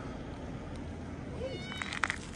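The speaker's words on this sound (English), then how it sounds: "Friendly cat." A cat gives a soft meow, then a brighter, louder meow close by, over a quiet room hum.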